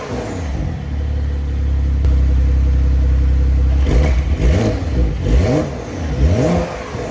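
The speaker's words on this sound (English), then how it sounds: "And here's what that would sound like." A 2025 Porsche 911 Targa 4, 473 horsepower, idles with a deep steady engine note, then revs loudly several times in rising and falling sweeps, each blip close and strong with no talk over it.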